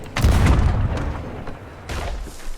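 Cannon fire in the pirate video game Sea of Thieves: a heavy booming blast with a rumbling tail, then a second, lighter thump a moment later.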